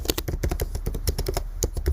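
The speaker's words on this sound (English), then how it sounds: "in the search bar, please type MuleSoft" Rapid typing on a computer keyboard, a steady patter of close, crisp key taps with no pauses and no voices.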